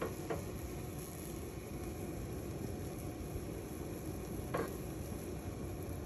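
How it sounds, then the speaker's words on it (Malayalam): Mackerel pieces going into a coconut curry simmering on the stove, with a couple of soft, brief plops over a faint, steady bubbling hiss, quiet and close. "ഇതിപ്പം തിളച്ച് വരുന്നുണ്ട്, നമുക്ക് ഫിഷ് അങ്ങോട്ട് ഇട്ട് കൊടുക്കാം."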